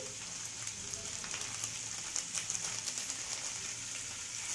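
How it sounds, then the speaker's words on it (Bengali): Capsicum and onion sautéing lightly in a pan with ground black pepper, a steady soft hiss and crackle of frying, fairly quiet and even throughout with no talking. "এই ক্যাপসিকাম আর পেঁয়াজটা এটাকেও আমি এর সাথে একেবারে হালকা সটে করে নেব"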